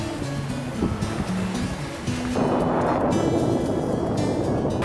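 Sea waves at Nagoa Beach in Diu roll in as a steady broadband wash of surf, swelling louder midway, with gusty wind buffeting the microphone and no voices.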